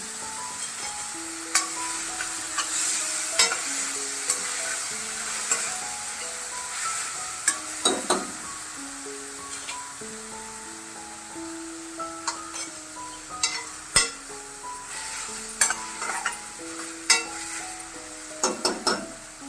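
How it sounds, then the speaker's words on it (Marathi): Chopped onion frying with a pinch of salt in a pan for sprouted moong curry, a soft continuous sizzle broken by frequent clinks and scrapes of a spoon against the metal, close and fairly quiet. "थोडस मीठ घालूया कांदा शिजण्यासाठी"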